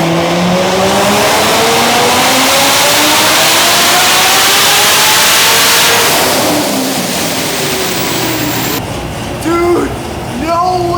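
A car engine roars at full throttle during a dyno pull, pitch climbing steadily through the revs, very loud and close, then dropping off into a lower rumble as the run ends.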